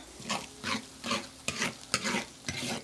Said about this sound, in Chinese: 锅里倒油、姜蒜儿、酸菜、火锅底料放进去炒，炒香。